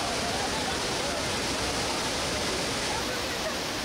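Ullim waterfall in a Gangwon forest roars as a steady, dense broadband rush of falling water, loud and unbroken with no pauses.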